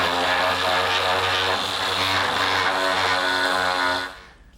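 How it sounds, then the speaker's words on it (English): Power sander smoothing glued-up wood on a library table: a continuous loud buzzing whine holding steady for several seconds, then cutting off abruptly as the tool stops. "now I'll sand it all smooth with my sander"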